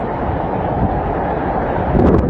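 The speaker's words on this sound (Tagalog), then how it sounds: "Habang rinig ang paghampas ng hangin, sabay ng buhos ng ulan." Strong typhoon wind buffets the microphone in a continuous loud roar, with a gusty surge near the end; rain is not distinct beneath it.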